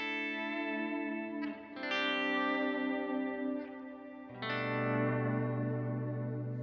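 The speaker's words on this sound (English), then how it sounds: "I'm going to turn on my big reverb, and then I'll just hit a chord and fade into it." An electric guitar chord, played with a volume pedal through a big reverb pedal, swells in from silence and blooms into a lush, sustained wash, then a second chord is struck and swelled the same way, alone and close.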